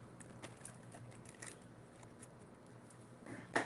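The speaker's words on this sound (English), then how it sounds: "We're gonna get one more shuffle from this deck." A deck of tarot cards being shuffled close up, a quiet run of soft riffling flicks and patters, faint and continuous, ending in a brighter snap.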